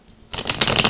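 A pocket-size Radiant Rider-Waite tarot deck is riffled, and a quick burst of fluttering card slaps starts after a brief quiet moment, close and fairly loud.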